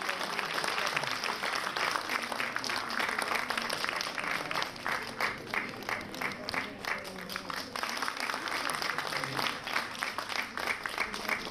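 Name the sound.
loud applause at a festival inauguration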